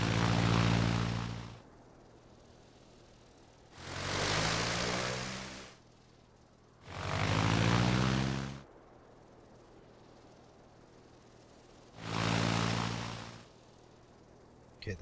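Propeller warplanes in Sid Meier's Ace Patrol video game drone past in four separate swells, each rising and fading over a faint steady engine hum between passes.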